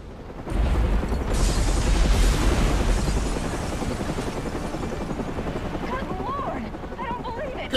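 News helicopter in the Batman: Arkham Origins video game, hovering over the Gotham Royal Hotel: a loud, dense rotor roar swells in after a moment and holds steady, with game speech and effects mixed over it.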